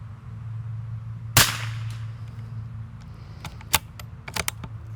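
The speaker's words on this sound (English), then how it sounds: "I'm going to shoot 5 rounds on the orange sticker on the left." Rifle shots from a Tikka T1X at an outdoor range: one sharp, loud crack near the start, then several more fainter cracks and clicks spaced irregularly, over a steady low hum.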